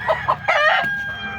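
An SBR gamecock rooster in a backyard crows close by, a short clucking lead-in breaking into a bright, strained crow that trails off.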